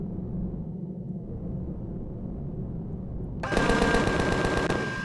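Machine gun fire in the space survival video game Empyrion Galactic Survival: a low rumbling background gives way to a sudden loud, sustained rapid burst of automatic fire near the end.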